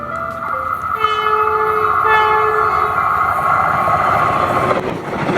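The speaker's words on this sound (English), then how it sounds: "a southbound FrontRunner with 109 leading, giving a horn show" A southbound FrontRunner commuter train, locomotive 109 leading, sounds a loud multi-chime horn in several sustained blasts up close. The rumble of the passing train runs underneath throughout.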